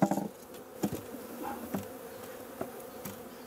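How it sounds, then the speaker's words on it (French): Honeybees buzz steadily at close range, a soft droning hum with a few brief knocks and taps scattered through it. "Il faut toujours bien ramener les abeilles vers la ruche."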